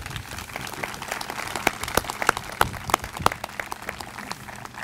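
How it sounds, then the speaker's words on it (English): A crowd gives a round of applause for the governor at a 125-year anniversary gathering in Ellsworth, steady clapping with a few sharper close claps standing out, moderately distant and continuing for several seconds. "let's give the governor a round of applause"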